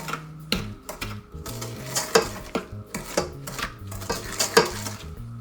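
A spatula scrapes around the sides of a mixing bowl of brown sugar cookie dough, giving a run of close, uneven scraping strokes with light clinks against the bowl and no talk.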